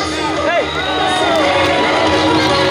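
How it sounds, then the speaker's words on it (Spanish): Crowd cheering and whooping at a stage awards ceremony of the Clásico RCN cycling race in Colombia, a loud continuous mass of voices with shouts rising over the din throughout. "Escucho el aplauso para el líder novato pollo, Juan Rodríguez."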